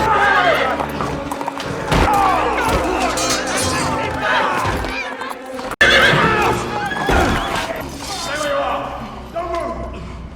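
Horses whinny repeatedly and loudly close by, with clip-clopping hooves and thuds mixed in, amid a busy scene with background voices, as a horse is handed over to a monk near royal soldiers.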